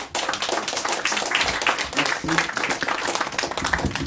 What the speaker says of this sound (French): Mesdames et messieurs, je vous demande d'applaudir, d'accueillir chaleureusement Antonio D'Alfonso.